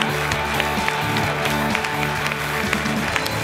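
Studio audience applauds in a Sport Club TV show as a favourite actress is welcomed on stage, a dense, steady wash of clapping close by throughout, with faint voices mixed in.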